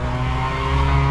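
A race car drifting in a driving video game played on a Fanatec Clubsport direct-drive wheel, with a continuous loud engine drone and tire squeal held steady throughout.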